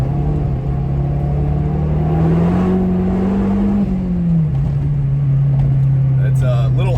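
Mazdaspeed 3 with no resonator or muffler revs in second gear around 3,500 RPM on an icy road, a loud, steady exhaust drone that rises slightly and settles, heard close through an open window with a voice talking over it.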